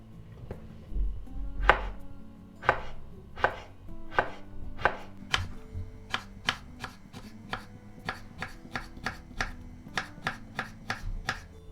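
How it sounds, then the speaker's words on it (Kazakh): A knife taps sharply on a cutting board in a steady run of about two dozen crisp, thin cucumber slices, the rhythm quickening as it goes. "қиярды осылай ортасынан бөліп алып, жұқа етіп кесеміз"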